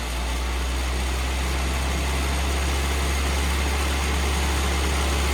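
A car engine idles steadily while being tuned on the road, with the fueling running lean: a constant, loud, low drone with no change in pace across the whole stretch.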